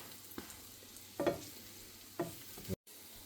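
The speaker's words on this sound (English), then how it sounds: "Then you'll only give about 2 minutes to cook the other side." Protein pancakes cook in a pan with a steady, quiet sizzle under a few soft scraping stirs and spatula touches, close and low in level, without talk.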